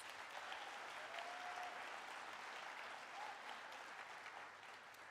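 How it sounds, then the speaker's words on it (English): Applause at a college district convocation after a speaker's message. A large audience claps in a steady, dense wash that sounds distant and faint, tapering slightly toward the end. "Please give Tucker one more round of applause."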